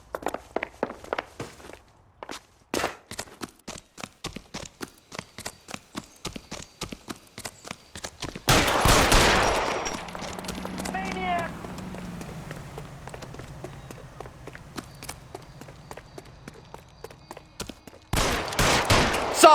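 Gunfire in the L.A. Noire video game: a loud burst of shots lands mid-clip and another near the end, after a long run of steady, rhythmic footstep-like clops.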